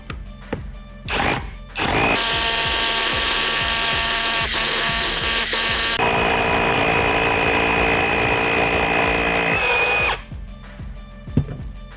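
A Procraft rotary hammer bores holes, one short burst and then a long sustained loud hammering whine of about eight seconds before it stops, followed by small knocks.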